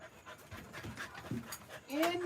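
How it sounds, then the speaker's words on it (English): A dog pants in quick, breathy bursts close by on a porch, followed by a short higher whimpering sound. "Hey, doggy, wait for me and Matilda."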